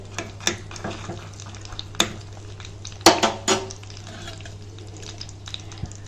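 Oil sizzles steadily in a pan with dried turkey berries and dried red chillies frying, while utensils clink and scrape against metal, with a few louder clatters partway through.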